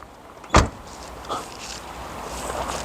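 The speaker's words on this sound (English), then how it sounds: "compare this door shut sound" A Rover 214 car door shuts once with a solid, dull thump, followed by faint mechanical rattles and low background hum.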